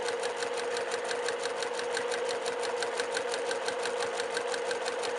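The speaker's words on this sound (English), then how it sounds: "I'm going to start stitching 1/4 inch." A new mechanical sewing machine stitches a quarter-inch seam on quilt block pieces, a steady, rapid rhythmic chatter of the needle running close and evenly throughout with no talk.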